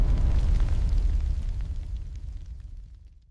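A hydrogen explosion sound effect erupts as a loud, deep roaring boom that starts at full force, then rumbles and crackles while fading away over a few seconds into quiet.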